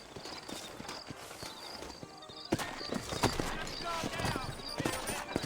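Horse hooves clip-clop steadily at a walking pace in the video game Red Dead Redemption, with a low murmur of voices and ambient game noise underneath.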